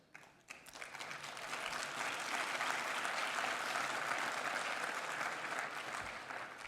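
Lecture audience breaks into applause after a brief pause, the clapping swelling quickly into a dense, steady wash of many hands that continues at even strength before tapering slightly near the end.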